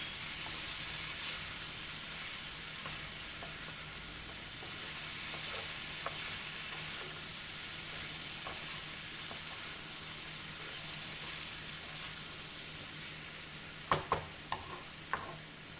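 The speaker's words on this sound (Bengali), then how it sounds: "এবার সমস্ত মশলা একসাথে কষিয়ে নেব" Spices and grated ginger sautéed together in a pan for a vegetarian papaya and chana dal curry, a quiet continuous sizzle and hiss with a short burst of spatula scrapes and taps near the end.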